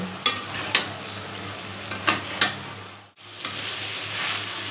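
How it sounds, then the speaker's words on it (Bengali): Stems and tender greens sauté with jackfruit seeds in a pan for a shrimp and stem dish, with a soft sizzle under several sharp spatula knocks and scrapes and a brief lull partway through. "ডাটার মাথায় নরম শাকগুলো দিয়ে একটু এর সাথে কষিয়ে নিব"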